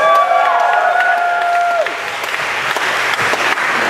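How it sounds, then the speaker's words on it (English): An audience claps and cheers loudly and continuously after a kendama performance, with a crowd roar that holds steady throughout and a sustained tone fading out early on. "Thank you so much for your pretty applause."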